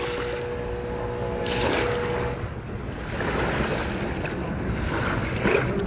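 Ocean waves at a beach in Florida, a continuous washing surf roar with steady wind noise buffeting the microphone throughout.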